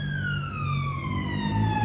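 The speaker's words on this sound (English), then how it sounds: "wait for the policemen to go past. Wait for police cars to go past." Police car sirens sweep past near a bus stop in Hampshire, a steady wailing tone gliding slowly downward as the vehicles move away, with traffic rumbling underneath and no talking.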